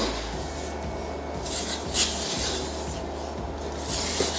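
A spatula rubs and scrapes around the sides of a mixing bowl of rainbow layer-cake batter, a steady rasping scrape running close and alone.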